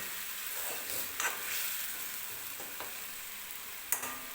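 Masoor dal cooks in a spiced onion masala for dal kanda, frying with a soft, steady sizzle. A few short scraping stirs of a spoon in the pan stand out over it.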